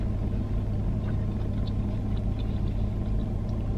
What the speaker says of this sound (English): Can you guys see all the traffic behind me?